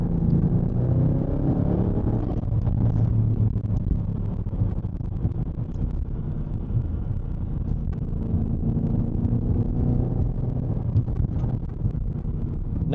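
A deep, steady turbocharged Audi S6/S7 4.0T engine rumble growls continuously throughout, thick and low with some wind buffeting over it, close and loud with no pauses.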